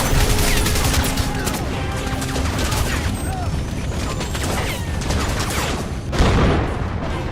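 Heavy gunfire in a PC shooter game, with continuous overlapping shots and crackling bursts from several directions and a louder blast near the end, filling the scene throughout.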